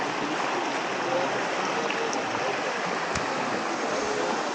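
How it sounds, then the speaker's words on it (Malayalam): A clear forest stream on the Erumeli–Karimala–Pampa pilgrimage route rushes in a steady, even wash of flowing water close by, with no voices. "ഈ തോട് അവിടം വരെയൊക്കെ ഉണ്ട് കണ്ടോ."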